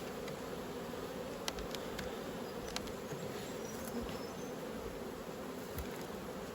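Honeybees buzz around an open hive during spring hive work, a dense, continuous hum of many insects at close range, with faint brief clicks now and then.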